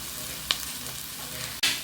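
Coconut milk poured into a hot pan for curry red snapper, a brief clatter followed by a sudden loud sizzle over steady background frying.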